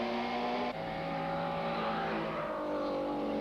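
Ford and BMW super touring race cars on the Killarney circuit in a 1995 championship round, a loud, sustained engine roar with shifting pitch as the cars power along together, heard close with no commentary over it.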